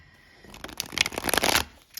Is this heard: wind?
no